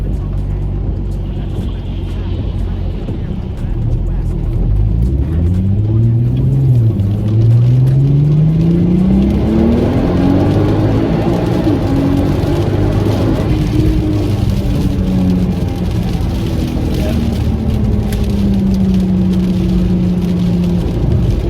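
A turbocharged MK5 VW Golf R32 accelerates hard, its engine note sweeping up through the revs in rising pulls with gear changes between them, loud and close throughout with a road and wind rush beneath.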